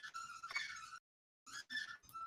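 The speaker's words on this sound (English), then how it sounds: "A well-timed squeaky toy." A squeaky dog toy squeaks in several quick, shrill bursts, close by, with a brief silent pause partway through.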